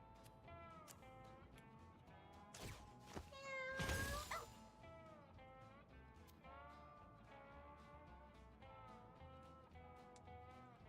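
Cartoonish cat meows from the video game Mewgenics repeat in short, pitched calls over a soft game soundtrack, with a sudden loud burst of noise midway.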